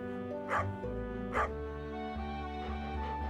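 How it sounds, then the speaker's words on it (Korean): A cartoonish puppy yips twice in the Stardew Valley farming game over steady, gentle background music, short bright barks standing out close and clear. "자 이거 보십시오 강아지 맞죠?"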